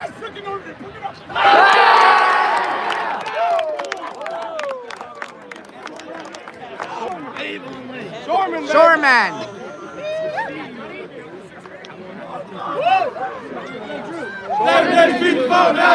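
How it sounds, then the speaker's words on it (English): A crowd that has flooded onto the field after the Highland Hornets' football win over the Hudson Explorers chatters, shouts and cheers loudly, with near voices talking over the noisy babble. "the crowd that's popped on the field applauds this Highland football team"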